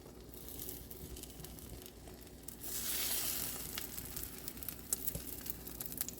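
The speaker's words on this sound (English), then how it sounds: "So drop back some egg in the pot to make back the hole." Egg fries in a pot with a soft, continuous sizzle and light crackle, swelling briefly near the middle, with a few faint ticks and taps.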